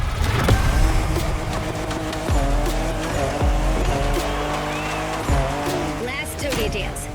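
A 2021 Toyota Super Drift Edition drifts in The Crew Motorfest racing game, with a steady engine drone, repeated tire squeals and skids, and a voice-like layer running throughout.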